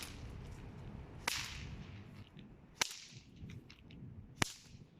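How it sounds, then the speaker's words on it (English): A snake whip cracks three times, each a sharp, loud, isolated snap against a quiet background, spaced about one and a half seconds apart. "that's what's causing this tip to break the sound barrier, which is what makes the crack."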